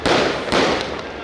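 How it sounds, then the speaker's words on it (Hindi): Fireworks go off at a Ramlila ground celebration in loud, close bursts, with two or three sharp cracks that ring out and fade over a dense crackle. "सुंदर आतिशबाजी"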